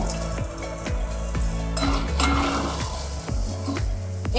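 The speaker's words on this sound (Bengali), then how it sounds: "একটু নেড়ে নিলাম" Masala okra being stirred in a frying pan, with a steady sizzle under repeated scraping and clinking strokes of a spoon against the pan, close and moderately loud, no voices.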